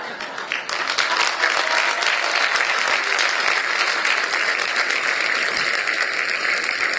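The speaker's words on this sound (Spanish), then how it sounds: "gusto por sus aplausos, muy agradecido." Theater audience applauding at a tribute event at Teatro Jorge Negrete, a dense, steady wash of clapping that swells in after a brief softer start and continues evenly, with no talking.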